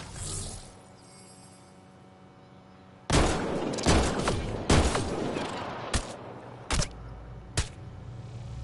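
Pistol gunfire in Mass Effect Andromeda: after a quiet start, a burst of sharp, loud shots comes close together, followed by a few spaced single shots over a steady game background.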